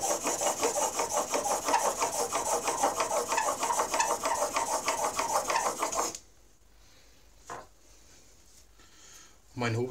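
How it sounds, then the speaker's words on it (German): A whetstone hones a planer blade with a steady back-and-forth rasping stroke for about six seconds, up close and loud, then stops, leaving quiet handling sounds and a short scrape. "Und dann kann ich ganz gemütlich meinen Schleifstein nehmen."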